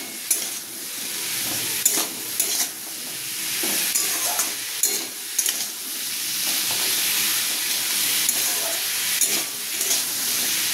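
Vegetables for a Bengali chorchori with hilsa fish frying in a pan with sugar added, a steady loud sizzle with irregular scraping and stirring knocks running throughout, close up and with no talk.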